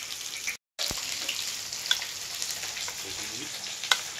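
Hot chili being mixed into a Bengali fish curry in a pan gives a soft, continuous sizzle, with a few sharp spoon clinks and one brief silent gap.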